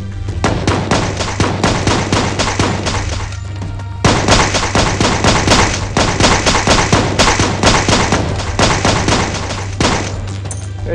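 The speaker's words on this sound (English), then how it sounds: "I shot the ghoul, yes." Rapid bursts of gunfire from the video game Bad 2 Bad Extinction, fired at a ghoul, crackling loud and dense for the whole stretch over a steady low hum, with barely a pause.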